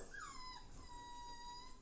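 A single puppy on railings whimpers and whines in a thin, drawn-out cry, sliding pitch and trailing off, close and moderately loud with no talking.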